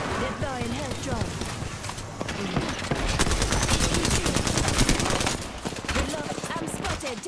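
Bursts of gunfire crackle through a match of the video game Apex Legends, rapid shots layered over footsteps and game effects, loudest in the middle, with voices talking over the action.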